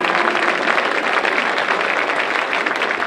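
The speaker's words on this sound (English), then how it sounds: "Round of applause, please." Crowd applause for Team Ontario and Team Quebec at the Football Canada Cup gold medal game, a steady, dense wash of clapping that holds at even strength for the whole stretch.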